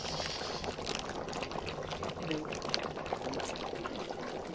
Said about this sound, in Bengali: দেখো মাংসের ঝোল একদম খুব সুন্দর করে ফুটে গেছে